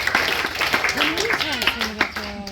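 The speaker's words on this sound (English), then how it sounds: "Give him a clap, guys." An audience at a crocodile show clapping and cheering in a scattered way while voices call out over the applause.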